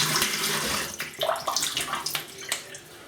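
Running tap water rinses a vintage Gillette Super Speed safety razor, a steady close splashing stream with brief irregular gurgles and surges, heard alone without talk.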